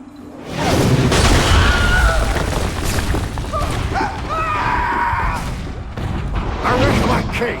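Booming artillery fire around Bunker Hill in Assassin's Creed III, heavy blasts and crashes rolling in at moderate distance beneath someone speaking forcefully.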